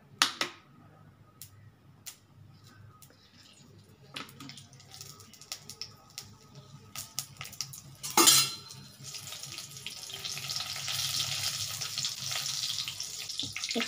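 Chana dal being stirred in mustard oil over a raised gas flame, scattered utensil scrapes and clinks rising to a steady broadband sizzle-like wash toward the end, with one loud clatter midway; no talk.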